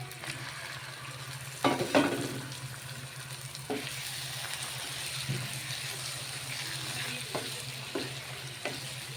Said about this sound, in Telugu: బోటి వేసి కొద్దిసేపు కలుపుకున్నాము.